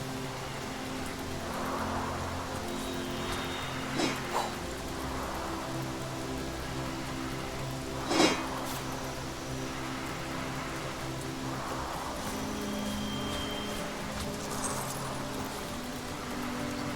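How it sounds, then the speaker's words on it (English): Rain falling in the video game Divinity: Original Sin, a steady broadband hiss of rainfall with a few brief louder splashes, continuous and alone without voices. "Rainfall! It never rains, but it pours"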